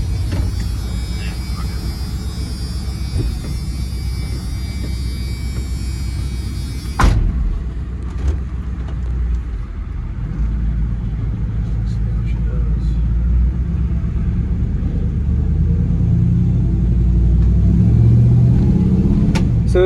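A 1998 Ram 1500 van with a swapped Hemi engine rumbles along on the road, a low steady engine drone with a sharp knock or door-like thump midway, followed by heavier rumble as it pulls.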